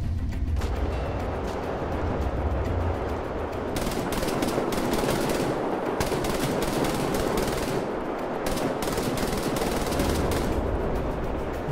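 Loud, continuous bursts of automatic machine gun fire in the video game Wolfenstein: The New Order rattle on and off, with rapid overlapping shots and brief gaps between volleys.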